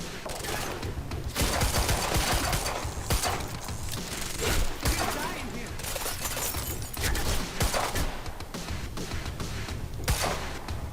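Sustained gunfire in the video game Quantum Break, dense bursts of rapid shots with impacts and clattering effects running almost without a break, loud and close, with no talk.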